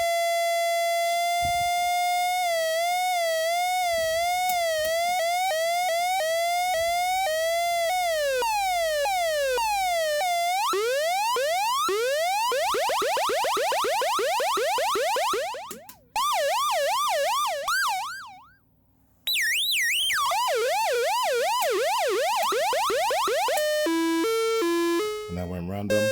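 A DIY analog synth's second oscillator (VCO2) under modulation, its tone sweeping up and down in repeated wavering glides and warbles, loud and continuous, with a brief dropout near the end and faint low hum beneath.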